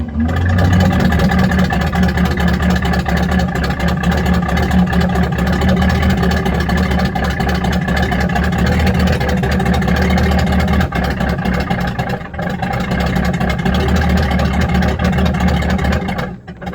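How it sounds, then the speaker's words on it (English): A 1964 Cadillac Fleetwood V8 runs steadily on a newly fitted Carter carburetor, loud and close, with a rough, uneven idle that suggests it is not firing on all eight cylinders, and a brief dip partway through. "Guess what, boys? We got a running engine."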